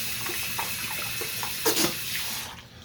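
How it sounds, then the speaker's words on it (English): Water running from a tap into a sink as hands are washed, a steady close splash over about three seconds with a brief louder burst near the end before it stops. "Wash my hands real quick."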